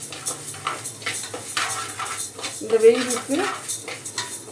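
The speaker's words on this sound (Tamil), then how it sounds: "பருப்பு லைட்டாக சூடு பண்ணணும்" Mung dal dry-roasting in a pan for sambar, stirred with a metal spoon: clinks and scrapes against the pan at an uneven pace over a faint sizzle, while a voice speaks briefly.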